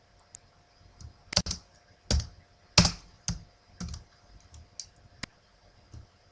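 Someone types query criteria on a computer keyboard with sparse, crisp key clicks scattered irregularly in a quiet room.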